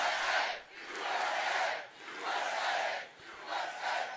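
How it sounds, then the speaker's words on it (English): A large crowd at a Donald Trump rally roars and chants in three long swelling waves, loud and close, with no distinct speech over it. "Just all the crowd energy playing off of each other."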